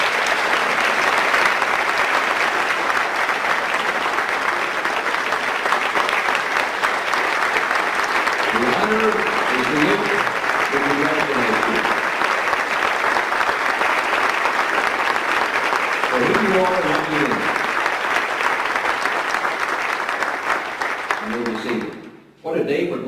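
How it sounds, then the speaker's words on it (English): Sustained audience applause fills a school hall of fame induction ceremony for the Springfield Public Schools class of 2016, steady and loud with brief voices rising underneath, cutting off abruptly at the end. "Let's give another round of applause to Springfield Public Schools Hall of Fame class of"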